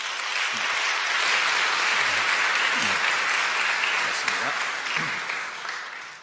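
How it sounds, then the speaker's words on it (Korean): A church congregation claps warmly for several seconds during a Korean Sunday service, the applause swelling then tapering off, with a few low voices murmuring beneath. "여러분들 환영의 박수 부탁드립니다"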